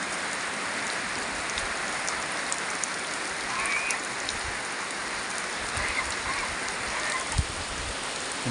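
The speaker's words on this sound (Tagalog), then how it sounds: "Lakas na ulan na" Heavy rain pours down steadily on a rainy morning, a dense even hiss of drops hitting surfaces with occasional louder splashes, continuous and without voices.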